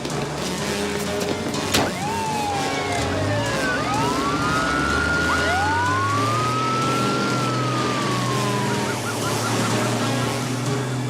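Airport crash-rescue vehicles scrambling to a runway, their wailing sirens sweeping up and down in several overlapping tones over a steady low engine rumble, loud and continuous throughout.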